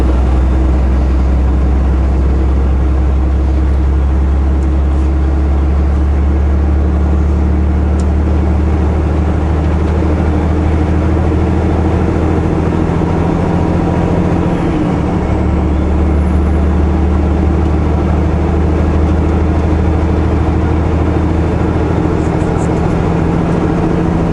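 A car cruising at speed on a highway, heard from inside as a loud, constant low engine drone and road rumble that holds steady throughout with no talking.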